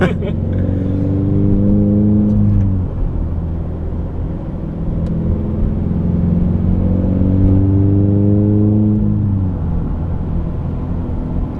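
A 2013 Subaru BRZ Premium with six-speed manual accelerates at full throttle, its engine note climbing steeply in two long rising pulls with a gear change between, loud and close from inside the cabin.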